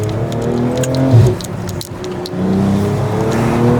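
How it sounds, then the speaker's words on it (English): A tuned BMW M240i's Scorpion exhaust roars as it accelerates, engine note climbing in pitch, briefly dipping, then rising again close by. "that Scorpion exhaust, it sounds perfect"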